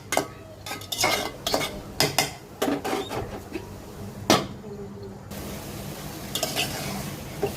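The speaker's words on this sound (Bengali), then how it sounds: "ভালো করে নেড়ে চেড়ে পেঁয়াজগুলো মিক্স করে দিব" Water spinach greens and onions being stirred in a pot, with repeated scraping and clanking of a metal spoon against the pot over a soft sizzle, busy at first and then settling into quieter cooking.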